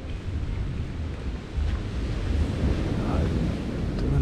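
Strong waves breaking on a lake shore at Entebbe, a rough continuous wash of surf mixed with gusting wind buffeting the microphone, loud and close throughout.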